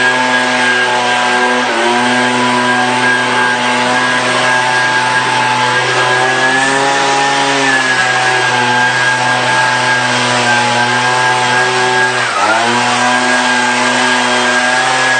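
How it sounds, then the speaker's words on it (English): A blower clears loose pebbles off a pebble epoxy floor with a loud, steady motor drone close to the listener. Its pitch sags briefly a couple of times as the load shifts. "scrape off any stray pebbles that are sticking up and sweep or blow off the floor to remove the extra pebbles"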